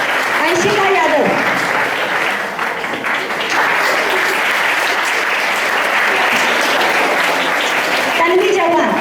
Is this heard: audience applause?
yes